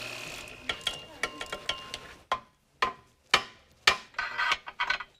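Ratchet wrench working on a Trans Am's torque arm and suspension, giving a series of sharp close clicks and clacks in uneven bursts, some heavier metallic knocks among them.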